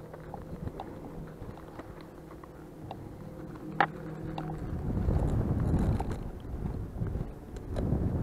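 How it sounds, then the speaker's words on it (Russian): Strong wind buffets the microphone in low gusts that grow stronger midway, with faint water and handling sounds beneath, while lure fishing for pike and perch by the water in a city. "Ветер здесь сильный."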